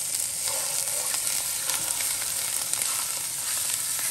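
Ground beef meatballs seasoned with pepper, garlic and salt sizzle steadily in a pan, a close, even frying hiss with light crackles and faint stirring, no voices.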